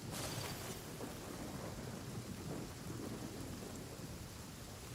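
Rain and thunder in the video game Genshin Impact: a rumbling thunderclap at the start over a dense, continuous hiss of heavy rain on surfaces, with no voices.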